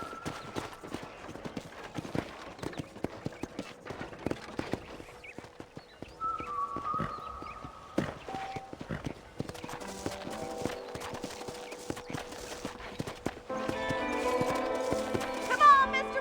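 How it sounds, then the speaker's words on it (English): A horse's hooves clip-clop in a rapid rhythm in the Red Dead Redemption western video game, with soft ranch ambience, bits of game music and spoken dialogue over the hoofbeats. "let's see if you can still ride a horse."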